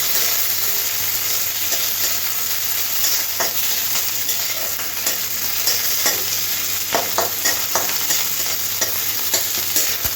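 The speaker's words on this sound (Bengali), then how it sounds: "পেঁয়াজটা একটু হালকা করে ভাজতে হবে তেলের মধ্যে দিয়ে।" Sliced onions with nigella seeds frying in oil, giving a continuous loud sizzle broken by stirring scrapes and clinks that grow more frequent toward the end.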